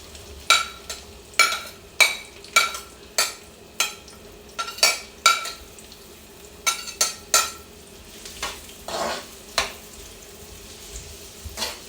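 Onions and garlic stir-fried in a pan for a squid dish, a spatula scraping and tossing in a steady run of about fifteen sharp strokes over a low, constant sizzle, close and fairly loud.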